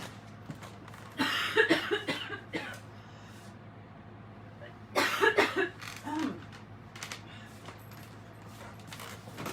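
Close, harsh coughing in two bouts of several coughs each, separated by quieter stretches with faint background noise.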